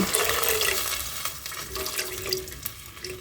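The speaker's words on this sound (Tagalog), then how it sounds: "Tapos lalagyan kong tubig." Water is poured into a cooking pan holding tomatoes while a fish sarciado dish is made, giving a close, continuous splashing and gurgling stream that stays fairly even for a few seconds.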